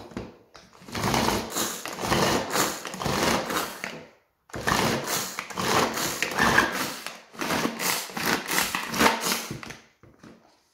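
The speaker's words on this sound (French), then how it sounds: "Donc j'utilise ce petit mixeur." A small hand blender whirs through mango purée in three long bursts separated by brief pauses, its motor buzzing close and steady with a choppy, pulsing texture as it works the fruit.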